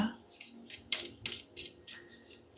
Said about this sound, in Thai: เดี๋ยวเรามาเปิดไพ่ อันนี้นะคะของแม่หมอ เป็นไพ่ Oracle นะคะ